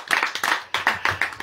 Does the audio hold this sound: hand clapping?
yes